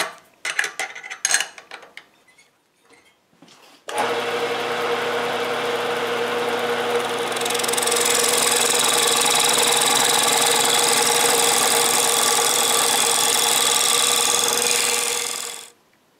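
A wood lathe being converted to CNC runs steadily in a home workshop, a loud continuous motor whine and hum that holds for about twelve seconds and stops abruptly, following a few earlier clanks.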